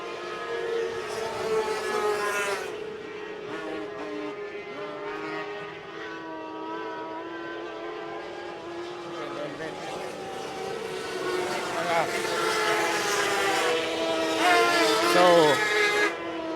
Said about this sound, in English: So it sounds like Paul Hart is having some engine problems